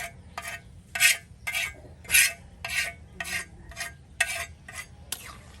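Pangas fish pieces in a sour curry with chalta being stirred in a pan, a metal spoon scraping and clinking in about ten regular strokes, close and fairly loud over a low simmering background.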